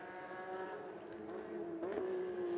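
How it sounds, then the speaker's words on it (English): A Ferrari race car in a Gulf Pro-Car race at Yas Marina Circuit holds a steady engine drone, then pitch briefly dips and recovers as it changes up a gear. The sound is moderately loud and heard from a distance. "Flashes a blue flame on the change up on the Ferrari"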